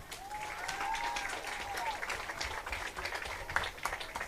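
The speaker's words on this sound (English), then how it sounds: "Please give them all a round of applause." Audience applause for high school faculty and staff at a football game, fairly faint and distant clapping spread across a large outdoor crowd, steady throughout.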